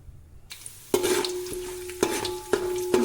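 Bay leaf, cumin, pepper, cinnamon, cloves and other whole spices stirred in hot oil for soya biryani, a sizzle starting after a quiet half-second, with a few sharp clanks of the spoon against the pan.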